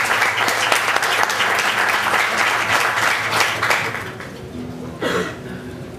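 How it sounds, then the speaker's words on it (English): Audience applause for a speaker opening an aquaponics talk at an energy fair, a steady dense clapping that fades toward the end as a single voice begins speaking. "Please give a round of applause for Dave."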